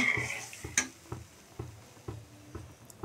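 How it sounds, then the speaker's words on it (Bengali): A spoon stirs a milk and rice flour mixture in a pot for a sweet rice sandesh, giving a faint, steady series of soft ticking knocks about every half second. "এখন আবার ভালো করে মিশিয়ে নেব।"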